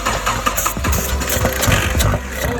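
A project car engine is throttled up close, giving a loud, rough, continuous rumble whose revs rise and fall in uneven surges, with no voices over it.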